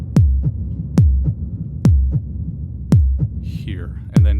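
A dark, reverb-soaked techno kick drum thumps five times at a steady pace, each deep hit trailing a short murky tail, with a brief warbling synth sweep just before the last hit.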